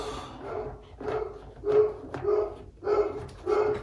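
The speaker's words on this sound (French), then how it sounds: "quelqu'un a sonné, donc le chien aboie." A dog barks after the doorbell rings: five or six loud, evenly spaced barks close by, each one full and resonant, with no talking.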